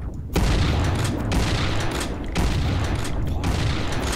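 Loud blasts from a shotgun in the Shrine game, heavy booming shots roughly once per second with a dense roaring tail between them.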